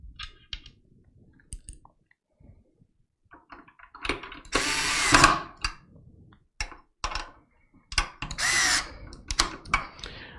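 A screwdriver tightens a screw on a Be Quiet CPU cooler during a computer build, giving scattered clicks and ratcheting taps between a few louder whirring bursts, close by and with no talking.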